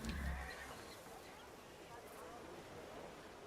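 A horse whinnies briefly at the start in the grand strategy game Ara: History Untold, then soft game ambience and low background noise continue without talk.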